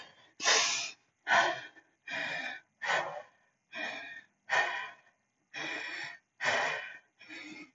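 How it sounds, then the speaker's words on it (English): Heavy, laboured breathing during a core workout: about nine forceful breaths in a steady rhythm, close and clear, with short silences between them and no talk. "even while your breathing is heavy"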